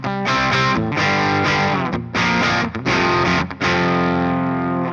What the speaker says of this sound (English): Maybe let's do the MX distortion, drive up, level down,